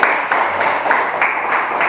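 A classroom of students claps for a classmate during a geography lesson. The clapping is loud, close and steady, with distinct rhythmic bursts throughout.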